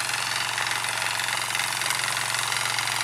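A farm tractor's engine runs at a steady, loud idle with a rough, vibrating throb while it is being repaired. The sound is close and constant, with no talk.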